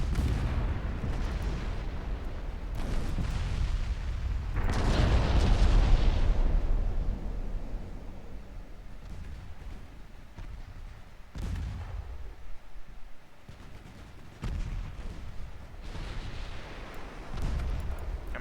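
Naval artillery booms in the Ultimate Admiral Dreadnoughts game, with ships firing on a destroyer. Heavy low rumbling blasts roll on continuously, peaking in a loud burst before settling into repeated duller thuds.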